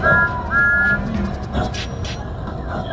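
A whistle from Thomas the Tank Engine, two short high toots close together, followed by a busy mix of other sounds.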